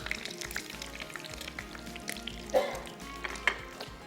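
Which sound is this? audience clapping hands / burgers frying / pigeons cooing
burgers frying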